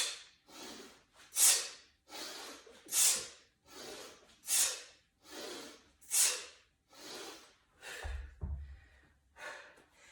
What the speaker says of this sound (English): you can see I need all the power breathing I can muster